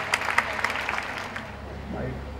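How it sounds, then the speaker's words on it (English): Scattered audience clapping at an Arabic conference at Lahore College for Women University, a few seconds of applause in the hall that thins out and fades. "With a big round of applause, I invite him to share his views about this beautiful event."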